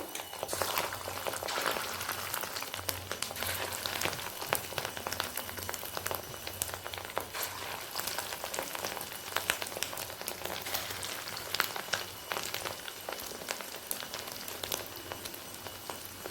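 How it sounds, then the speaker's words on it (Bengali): Fish roe fritters frying in hot white oil in a wok give off a soft, continuous crackling sizzle that stays fairly quiet and even throughout, with no voices. "কড়াতে সাদা তেল গরম করতে দিয়ে দিয়েছি তেলটা গরমও হয়ে গেছে কড়ার গায়ে তেলটাকে একটু লাগিয়ে নিলাম এবার একে একে বড়াগুলোকে ছেড়ে দেবো"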